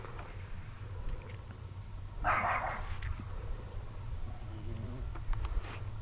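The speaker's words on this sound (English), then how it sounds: "we shouldn't bark at the neighbor's doggies." A dog barks once, a short muffled burst at a moderate distance, set against a steady low hum and soft background noise.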